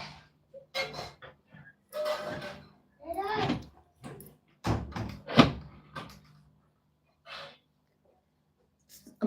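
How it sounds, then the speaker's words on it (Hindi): A house door is pushed shut, giving a couple of dull thuds and clunks mixed in with a woman's and others' scattered talk in a quiet home room. "बाबू दरवाजा बंद करो"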